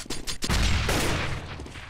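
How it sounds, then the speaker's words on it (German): A rapid burst of gunfire from the Roblox shooter Counter Blox, several sharp shots followed by a dense, sustained volley, loud and close with no talking. "die sollen mal aufhören zu schießen"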